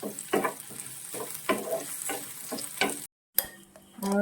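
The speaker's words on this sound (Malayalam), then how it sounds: "അടുത്തതായി ഇതിലേക്ക് ചേർക്കുന്നത് സവാളയാണ് ഇതെല്ലാം കൂടി നന്നായിട്ട് വഴണ്ടു വരണം" Onions sauté in a pan for a curry, with soft sizzling broken by several short stirring scrapes in an irregular rhythm, a brief silent gap, then renewed frying, close and moderately loud.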